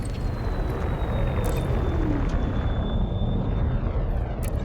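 Spaceship engine with the throttle left on in Elite Dangerous, a loud continuous roaring rumble with a thin whistling tone that slowly falls in pitch, steady throughout.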